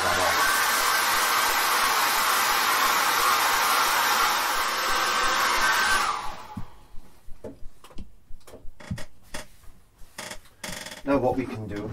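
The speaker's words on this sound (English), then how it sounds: "I'll put the hairdryer on that and dry that off." A hairdryer blows on a freshly painted seascape, a steady, loud rushing whoosh lasting about six seconds that then cuts off, followed by small clicks and knocks from handling.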